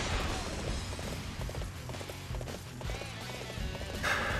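Horse hooves gallop in Dynasty Warriors 8, a rapid, steady clip-clop mixed into dense battle noise and music, fairly quiet and continuous throughout.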